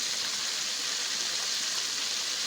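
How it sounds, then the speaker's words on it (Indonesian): Rain falls steadily outside during a rainy spell, a soft, even, continuous hiss with no distinct drops or thunder and no talking. "ada suara-suara petir sedikit dan juga ada gemericik hujan ya"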